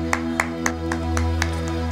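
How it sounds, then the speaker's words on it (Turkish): Sparse, evenly spaced hand claps in a TV studio on the Mehmet Öndül Show, roughly seven sharp single claps in a slow rhythm over a low steady hum. "Alkış geldi oradan değil mi gençler?"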